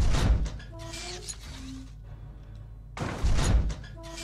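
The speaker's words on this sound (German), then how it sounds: "Gott, geht mir die Tür auf den Senkel." A door in the horror game Fobia St. Dinfna Hotel creaks as it swings, with a loud mechanical rattle at the start, a quieter drawn-out creak in the middle and another loud burst of movement near the end.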